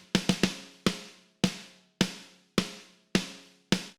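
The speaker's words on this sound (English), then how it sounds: "So we got one snare sample that sounds like this." A snare drum sample from a song mix hits about nine times: a quick flam-like triple, then evenly spaced single cracks, each with a bright decaying tail, alone and fairly loud.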